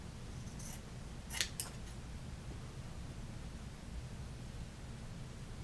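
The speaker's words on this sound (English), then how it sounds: "if you take the 3" by 3" shotgun cleaning patches and just cut them in half" Scissors snip through cotton shotgun cleaning patches, a few quick faint cuts clustered early against a quiet hissing background.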